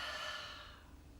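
An audible open-mouth exhale during yoga breathing, a soft breathy rush that is strongest at the start and fades over about a second. It is close and alone, with no talk over it.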